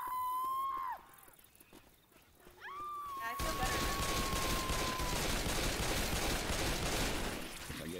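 Dense, rapid gunfire from the video game Left 4 Dead 2 bursts in and continues loudly for several seconds, following a few high, wavering cat-like cries.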